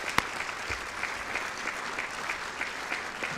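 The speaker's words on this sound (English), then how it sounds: "So if we can please give them a round of applause" Audience at a National Honor Society ceremony applauding students' parents: steady, moderately loud clapping from a crowd, sustained evenly throughout.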